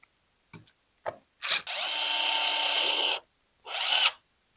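A power tool tightens a nut while an e-scooter is assembled: a few short taps, then a loud close whir of about a second and a half, and another brief burst.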